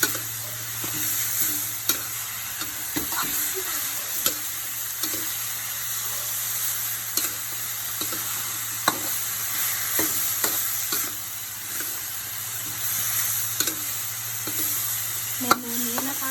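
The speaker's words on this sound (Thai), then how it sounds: "ทีนี้เราก็จะผัดหมูแล้วก็บวบนะคะ ให้เข้ากันค่ะ" Minced pork and luffa gourd stir-fry in a pan with a steady background sizzle, punctuated by repeated sharp scrapes and taps of a spatula at an irregular pace, close by.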